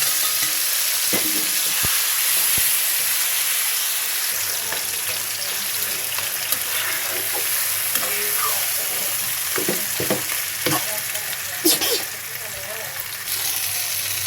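Spiced ingredients with turmeric sizzle and fry steadily in hot oil in a home kitchen pan, a constant close crackle with occasional stirring and clinks throughout.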